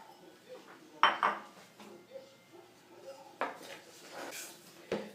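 Spoon scraping and clinking against a bowl while pão de queijo dough is mixed with three cups of grated meia-cura Minas cheese, with a few sharp knocks and soft stirring scrapes at close range, alone.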